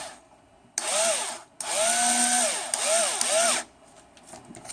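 A power driver tightens an M3 30 mm screw in three close, loud whirring bursts whose pitch rises and falls as the motor loads up, separated by brief pauses.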